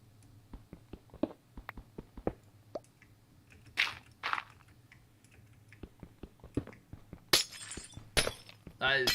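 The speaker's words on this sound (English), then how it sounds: "Me destroying glass that I can't put back in my inventory." Glass blocks shattering in the Minecraft video game during survival play, a series of sharp crunching breaks spread across the clip over a steady low game hum, with scattered clicks between them.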